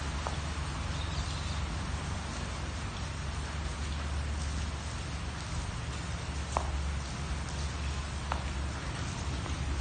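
Steady heavy rain pours during a power outage, a dense continuous hiss filling the scene with a few sharp drip or tap transients, no voices.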